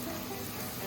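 Tomatoes sauté with onions in a hot pan, giving a brief, steady, close sizzle that hisses continuously throughout.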